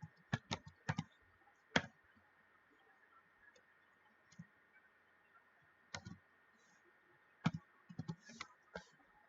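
Code being typed on a computer keyboard in a quiet room, scattered bursts of soft key clicks with pauses between them, faint and close, over a low steady hum.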